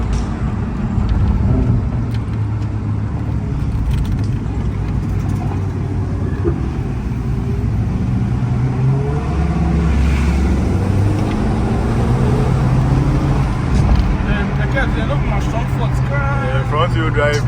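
A Honda Accord is driven hard through the winding Aburi curves, engine and road roar running steady and loud, tyre and wind noise rising and falling, with people talking inside the cabin throughout.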